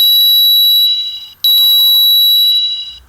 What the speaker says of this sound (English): Orp Smart Horn.